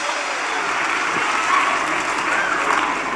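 Congregation applauding during a church service, a steady dense wash of many hands clapping at once, sustained and even for a few seconds with no voices standing out.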